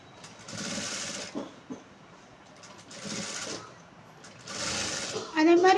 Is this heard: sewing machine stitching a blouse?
yes